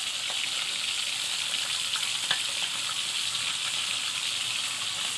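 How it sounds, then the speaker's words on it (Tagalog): Tilapia fries in a pan of hot oil with a steady, dense sizzle and occasional small pops, close and continuous with no talking. "piprito po muna natin"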